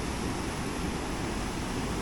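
Spring water flowing through a Dutch-era irrigation channel near a weir, a steady broadband rushing roar that holds constant and fairly loud throughout, with no voices.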